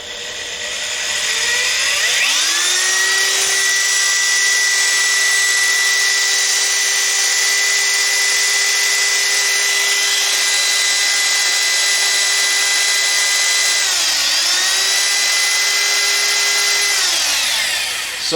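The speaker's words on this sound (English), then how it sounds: "Now what I'll do is I'll use the variable speed trigger and I'll slowly see if I can get this drill going." Cordless-style drill powered from an XTAR YW500 portable power station spins up slowly on its variable speed trigger into a loud, high whine, dips briefly partway, then runs steady until winding down near the end.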